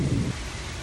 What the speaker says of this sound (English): hurricane rainstorms moving through here